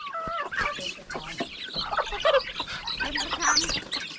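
Several chickens cluck and cackle close by on a farm at dusk in a busy, overlapping chorus, with a few sharper squawks mixed in.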